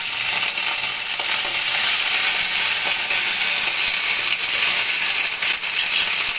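Ginger paste hits hot tempering oil with radhuni seeds for a shukto dal, giving a loud, steady, close sizzle with fine crackling and spatter throughout, no voices.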